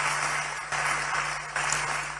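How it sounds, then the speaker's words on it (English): An audience at a political gathering applauds in a dense, steady wash of clapping with a low electrical hum beneath, fairly distant. "A round of applause for him."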